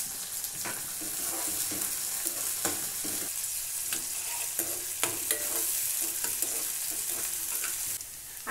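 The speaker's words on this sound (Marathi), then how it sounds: "आता याच्यामध्ये आपण थोडा कांदा टाकूया." Onion frying in hot oil with mustard seeds and cumin sizzles loudly and steadily, with frequent sharp clicks and scrapes from stirring throughout.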